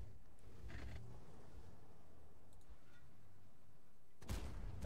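A tank cannon fires in the World of Tanks video game, one sharp, heavy blast near the end after quieter low rumbling and a faint earlier report.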